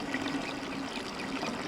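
Steady trickling water flows through pipes toward a tree in the Riven video game, a continuous soft stream of pouring and dribbling at moderate level with no talking.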